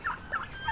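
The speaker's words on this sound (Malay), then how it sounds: "hari Natal pula kita akan keluarkan sebanyak 300 ekor ayam piru ini" Farm turkeys gobbling, three short warbling gobbles in quick succession, fairly close and clear, with no voices over them.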